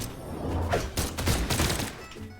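Blaster gunfire in the fighting game Brawlhalla, a rapid run of punchy shots and thuds fired in quick succession, loud and close with no talking over it.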